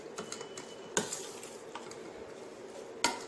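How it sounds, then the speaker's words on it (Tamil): A spoon mixes lemon juice into cooked rice for lemon rice, making soft, quiet scraping and occasional sharper clicks against the vessel at an uneven pace. "இப்போ அந்த லெமன் சாறு எல்லா இடத்துலையும் பரவுற மாதிரி நல்லா மிக்ஸ் பண்ணி விட்டுருங்க"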